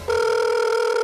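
A telephone line tone sounds during an outgoing call, a single steady electronic tone that starts abruptly and holds loud and close.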